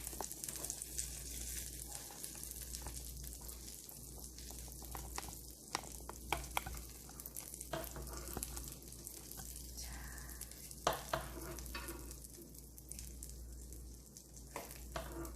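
Green chili pancakes frying in a pan, a steady soft sizzle and crackle of oil throughout, with occasional faint clinks and scrapes of a utensil, fairly quiet and continuous with no talk.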